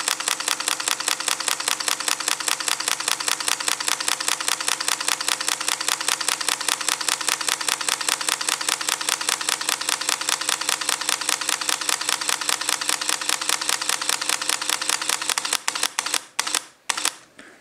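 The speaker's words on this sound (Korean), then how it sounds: "먼저 셔터 우선 연속 촬영에서의 연속 촬영입니다." A Sony a7 camera fires its shutter in continuous burst shooting at extra-fine JPEG quality, a fast, even run of mechanical clicks that slows to a few separate shots near the end.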